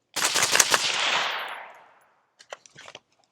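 Suppressed rifle fitted with a TISHA 556 suppressor fires the rest of its magazine in a rapid string of muffled shots lasting about two seconds, followed by a few faint mechanical clicks and rattles.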